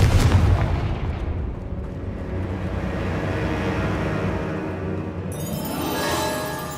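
Confringo blasting spell in Hogwarts Legacy, played on PS5: a loud explosive boom opens, followed by a long rumbling, crackling decay that rises again near the end.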